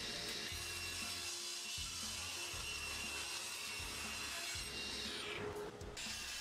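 A chop saw squares up the edges of wooden boards, fairly quiet, with repeated pulsing cuts and a brief sharper burst near the end.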